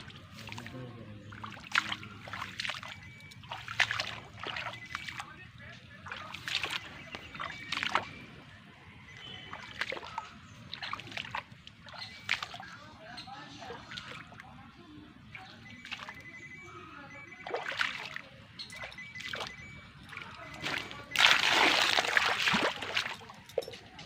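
Floodwater sloshes around the base of bean plants in a garden, with repeated soft splashes and swishes at an uneven, stepping rhythm and a louder burst of churning water near the end.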